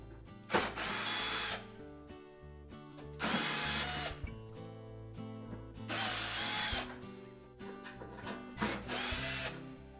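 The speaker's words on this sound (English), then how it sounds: "Now we'll go ahead and remove the rest of the screws that secure that back panel" Power drill backing screws out of the back panel of a Whirlpool range, several short whirring bursts separated by pauses and light clicks, close and loud with no talking.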